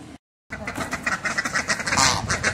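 Several ducks quack in a rapid, overlapping chorus close by after a brief moment of silence.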